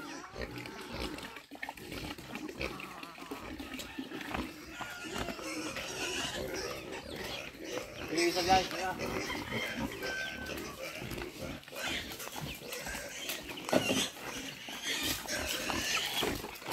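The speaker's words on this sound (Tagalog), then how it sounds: "Nakakain na yung baboy." Pigs grunt and snort close by, with a voice talking over the low, irregular noises.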